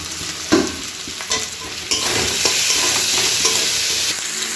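Tomatoes frying in a wok with onion and garlic give a steady, close sizzle, jumping louder partway through as they hit the hot oil, with a few scraping stirs and no voices.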